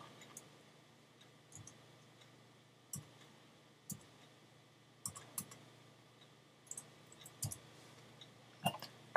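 Sparse, faint clicks of a computer keyboard as a word is typed into a web browser, scattered single keystrokes spread over several seconds against a quiet background hum.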